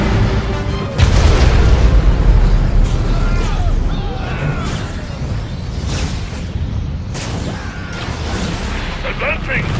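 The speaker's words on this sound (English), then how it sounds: "Nuclear missile launched." A nuclear missile launching and exploding in a video game: a heavy rumbling boom swells after the first second and keeps roaring loudly, with game voice lines and crackling effects on top.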